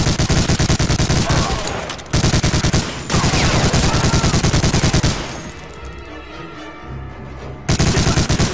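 Sustained machine gun fire from the Medal of Honor Allied Assault Operation Torch PC game, loud and continuous in long rapid bursts with brief pauses, then a quieter stretch of gunfire before a final burst.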